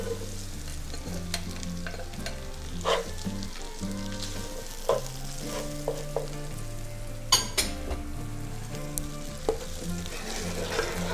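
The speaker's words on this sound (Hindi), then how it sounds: "अब हम इसमें चने डालेंगे और चनों को थोड़ा सा पकाएंगे इसमें।" Chickpeas sizzle and fry in a pan for a degi-style chana pulao, a steady crackling hiss with occasional metal clinks of a spoon stirring against the pot, close and continuous with a low hum beneath.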